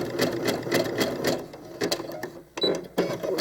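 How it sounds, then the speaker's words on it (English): A sewing machine runs a zigzag stitch on doll clothes, with a rapid close mechanical clatter that starts and stops in short runs. "I'm going to show you the zigzag as it comes up on my machine."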